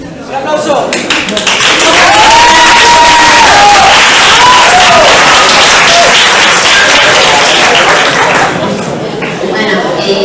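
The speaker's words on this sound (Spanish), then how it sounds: "¡Un aplauso!" Loud applause and cheering from a school audience for finalist Clara at a micro-story contest, a thick burst of clapping with some whoops and laughter and a voice calling out over it, easing slightly near the end.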